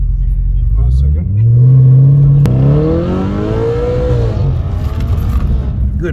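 A car at a launch-control start, its engine held at high revs and then released into a hard, loud acceleration whose pitch climbs steeply through the gears, close by and dominating the scene.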